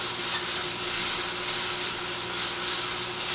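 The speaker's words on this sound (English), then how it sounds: "Hear that sizzle." Food sizzles steadily in a hot pan after beer is added, a loud continuous hiss with occasional stirring sounds and a low hum beneath.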